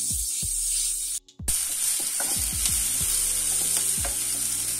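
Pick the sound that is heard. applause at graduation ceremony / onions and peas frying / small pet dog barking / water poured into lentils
onions and peas frying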